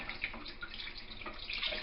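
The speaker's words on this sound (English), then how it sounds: "Let me just turn that cold tap off." Cold water from a kitchen tap runs steadily into a sink, a close, continuous splashing wash with small spattery bursts near the end, no voices.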